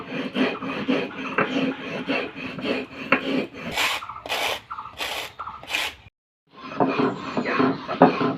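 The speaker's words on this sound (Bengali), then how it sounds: "আমি শিলনোড়াতে বেটে নিচ্ছি আপনারা কিন্তু এটা মিক্সিতেও গুঁড়ো করে নিতে পারেন" Salt being ground on a stone grinding slab (shil-nora), heard as close, steady rasping strokes of stone on stone that repeat in a regular rhythm, with a short pause before the grinding resumes. Nobody speaks.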